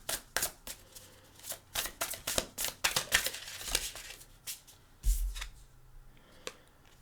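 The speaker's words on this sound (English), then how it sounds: "Let's shuffle for them." Cards riffle and slap together in quick, uneven bursts, close and crisp, with short pauses between shuffles.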